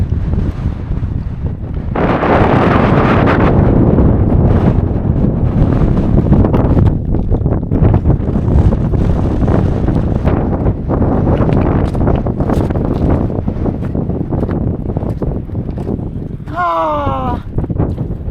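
Strong gusts on an exposed mountain hike in Arctic Norway batter the microphone in a loud, roaring rush that swells after a quieter start and keeps buffeting unevenly, with a short whistling sweep near the end.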